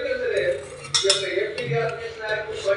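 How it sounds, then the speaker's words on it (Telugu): A clean spoon stirs homemade strong Bru coffee in a cup, clinking against the sides in irregular metallic taps and scrapes, close and clear, with no talking. "వేసాక ఒక్కసారి శుభ్రమైన స్పూన్తో కలిపేసుకుంటే చక్కగా మిక్స్ అయిపోతుంది"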